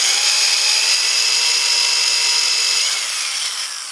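A power drill bores a hole with a steady, continuous high-pitched whir, close and loud, easing slightly toward the end.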